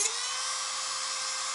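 Steady high-pitched whine of a micromotor drilling into the points of a turned wooden Roman dodecahedron, running continuously and close throughout.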